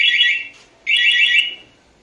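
Two loud, steady electronic alarm tones from an SGP vehicle security alarm sound close by, each lasting under a second, with a short pause between them.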